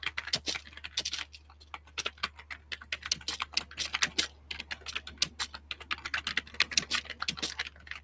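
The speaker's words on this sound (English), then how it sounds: "Sorry about the typing." Fingers clatter on a computer keyboard in quick, uneven bursts of sharp clicks, close and fairly loud, with short pauses between flurries of keystrokes and no talking.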